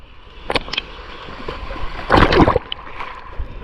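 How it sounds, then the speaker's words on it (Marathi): Sea water sloshing and splashing along a Konkan beach shoreline, with one louder surge as a wave breaks, then lighter gurgling. "लाट आले लाट मित्रांनो लाट बघूया"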